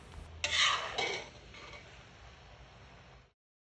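A spoon scrapes and stirs through thick rice pilaf in a metal pot on a stovetop, a couple of strong strokes fading to softer mixing before stopping.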